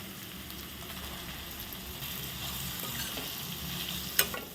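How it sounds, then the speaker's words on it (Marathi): Finely chopped onion sautéed in a hot spiced tempering for a fenugreek-leaf pitla, with a steady close sizzle of frying and faint stirring throughout, plus one brief sharp clink near the end. "कांदा पण आपण हा छान परतून घेणार आहोत"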